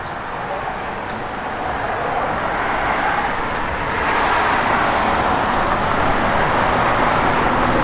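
A 1972 Chevrolet Chevelle SS with a 402 big-block V8 and stock 308 gearing accelerates hard from a stop. Its rough, loud engine roar grows stronger midway and holds steady to the end.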